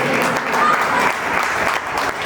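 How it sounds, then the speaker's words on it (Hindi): An audience at a Vishwakarma community annual gathering in Gumla breaks into loud, dense applause, steady clapping that swells slightly and carries on with some voices mixed in. "जोरदार तालियां होनी चाहिए इस"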